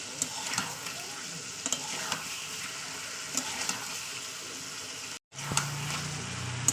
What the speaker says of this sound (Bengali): তো আমার তিন থেকে চার মিনিট কষানো হয়ে গেছে